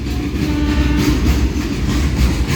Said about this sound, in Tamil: இந்த ட்ரெயினுக்காண்டி தான் எங்கள் ட்ரெயின் வெயிட் பண்ணியிருக்கு